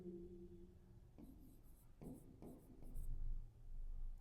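Faint, scratchy strokes of writing on a board during a chemistry class come in short bursts of marker or chalk movement, with a quiet voice briefly heard at the start.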